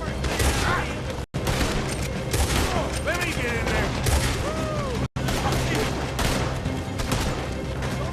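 Heavy, near-continuous gunfire in Red Dead Redemption 2 during a shootout, dense overlapping shots and bursts with two brief cuts to silence, while voices shout over the din.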